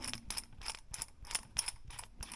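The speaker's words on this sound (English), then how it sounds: "next the compression fitting puller" Compression fitting puller worked on copper pipe under a bathroom sink shut-off valve, giving a run of sharp metallic ratcheting clicks in quick bursts, close and moderately quiet, with no talking.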